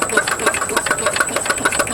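A transparent combustion engine runs with a piezo-pneumatic valve actuator, giving a fast, steady mechanical chatter of rapid rhythmic clicks and whirring, close and continuous, with no one talking.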